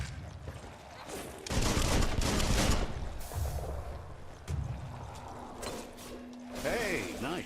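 Gunfire and clanking mechanical action in the Biomutant video game, with bursts of shots layered over busy game effects and a spoken voice at the end.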